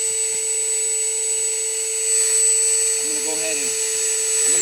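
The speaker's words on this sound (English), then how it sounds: "now I got the drill out with a little wire brush on there" A hand drill fitted with a small wire brush grinds steadily against rusty metal on a Chevrolet El Camino door jamb, a loud continuous whine running throughout, with a voice briefly heard near the end.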